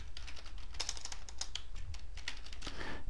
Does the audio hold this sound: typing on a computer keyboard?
yes